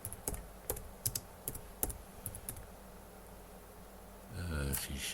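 Keys tapped on a computer keyboard while entering commands in a Kubuntu terminal, sparse close clicks in short clusters, followed at the end by a voice.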